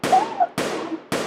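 Three handgun gunshots from a deadly shooting rampage in a St. Johns County neighborhood, caught over a 911 emergency phone line: sharp, loud cracks, each with a short decaying tail, spaced about half a second apart.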